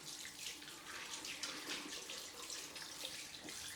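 Running tap water splashes steadily over a razor held under the stream, a close, continuous hiss with small shifts as the blade moves through the flow.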